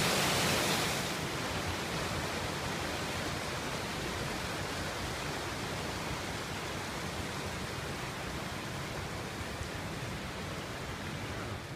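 A pretty river flows along a mountain stretch of the Camino Primitivo in February, a steady broadband rush of water that stays loud and even with no voices.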